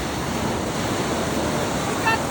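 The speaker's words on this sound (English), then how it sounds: "Don't get taken by the waves!" Ocean surf rolls steadily onto an Icelandic black sand beach at Reynisfjara, a loud continuous roar of breaking waves mixed with wind buffeting the microphone.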